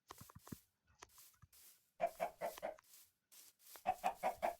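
Chickens clucking in the Minecraft video game, a few short scattered clucks followed by two rhythmic bursts of four or five clear, close clucks each, separated by brief silence.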